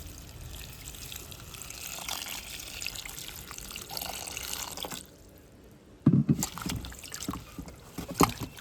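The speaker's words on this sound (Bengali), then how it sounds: "এবারে জল দিয়ে ধুয়ে নেব।" Cut papaya leaves being washed with water by hand, a close splashing and rinsing that stops briefly, then resumes with louder sharp splashes.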